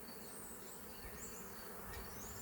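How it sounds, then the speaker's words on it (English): Swarming honeybees, with some still clustered on a tree limb, buzz in a faint, continuous drone from a short distance away. "There's still quite a few bees on the limb up there."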